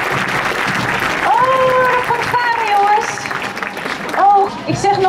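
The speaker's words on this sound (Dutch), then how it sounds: "Geef ze nog een groot applaus." Crowd applause at the opening of a Hudson's Bay store in Amsterdam, a steady broadband clatter of clapping with voices talking over it throughout.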